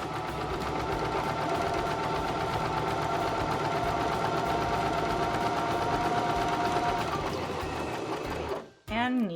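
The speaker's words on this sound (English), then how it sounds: "we'll go over to our third row of stitching" A Baby Lock Zest sewing machine stitches a row with a twin needle in a steady, close, continuous whir for several seconds, then stops abruptly with a brief clunk at the end.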